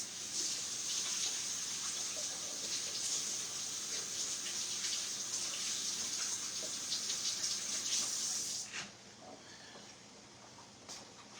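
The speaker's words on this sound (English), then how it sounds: "let me wash my hands off" Hands are washed under a steady stream of kitchen tap water, a continuous close splashing hiss for about eight seconds, after which the flow stops and a few faint drips and handling sounds follow.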